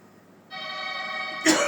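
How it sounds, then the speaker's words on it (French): A steady humming tone plays, then a single short, sharp cough bursts out near the end. "Pardon, je tousse."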